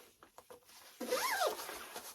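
A zipper pulls shut on the pocket of a GoHero heated battery softshell jacket, a single close, quick rising rasp after a few soft handling rustles.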